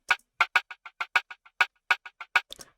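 Snare drum sample in an Afro swing type beat with an echo effect and panning to the left, playing a syncopated run of crisp, loud hits with short repeating tails, closing in a quick burst of rapid strikes.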